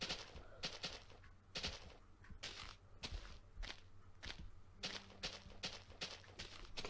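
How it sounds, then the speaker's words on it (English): Fireworks going off outside on bonfire night, a run of sharp distant bangs and cracks at irregular intervals, some in quick bursts, over quiet indoor background while Minecraft is being played. "There's fireworks going on outside,"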